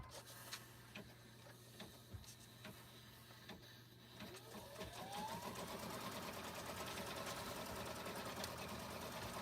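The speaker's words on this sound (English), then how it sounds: "all I'm doing right now is just stitching a placement line" An embroidery machine stitches a placement line on a name badge, a quiet, steady mechanical whir with light rhythmic ticking that builds into a denser continuous hum.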